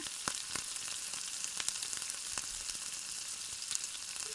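Cinnamon, cloves, garlic, ginger and onion fry gently in oil in a pan, a soft, steady sizzle with occasional faint stirring clicks, quiet and without any talk.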